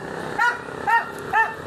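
A dog barks three times in an evenly spaced series, each bark short and fairly close, over a steady low background rumble.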